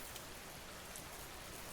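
Steady rain falls and drips in a soft, even patter, faint and continuous with no voices.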